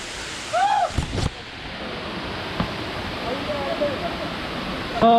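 The Kaijoda waterfall in Kendujhar, Odisha, roars as a steady broad rush of falling water, with brief voices and a few bumps over the constant wash.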